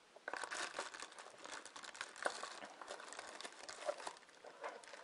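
Plastic bags crinkling and rustling while a universal windshield car phone holder and its chassis mount are unboxed, close and busy, with irregular crackles and sharper snaps throughout and no talk.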